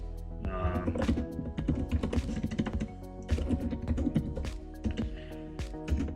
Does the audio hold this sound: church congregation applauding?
no